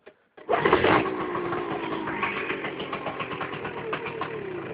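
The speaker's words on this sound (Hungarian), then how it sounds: "Mindjárt be is zárjuk, és beindítom a motort" A cold motor sputters briefly, then catches and starts, settling into a steady, buzzing idle close by with a rhythmic pulse, no talking.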